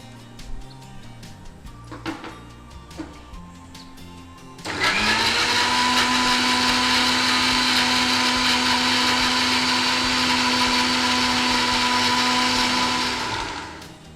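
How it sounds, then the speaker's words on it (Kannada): After a few quiet clicks and knocks, a mixer grinder whirs loudly and steadily for about nine seconds before shutting off. "ಗ್ರೈಂಡ್ ಮಾಡ್ಕೊಂಡು ಬಿಡೋದು."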